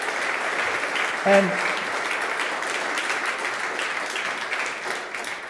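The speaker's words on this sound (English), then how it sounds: "So again, round of applause for all of you" An audience at a LightSpeed event applauds with dense, sustained clapping throughout, and a speaker's voice briefly cuts in near the start.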